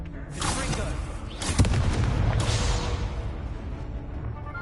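Booming fire-spell blasts from the Hogwarts Legacy video game burst out in quick succession over a rumbling combat soundscape, with a voice casting spells.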